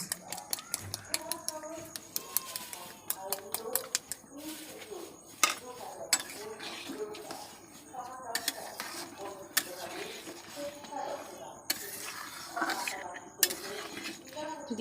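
A spoon stirring vegetable momo filling in a metal pan, with busy clinks and scrapes of utensils against the pan running throughout, fairly close and steady.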